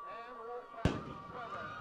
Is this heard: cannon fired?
yes